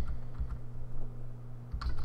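Computer keyboard keys clicking in short bursts near a gaming microphone, with a steady electrical hum underneath and no talking.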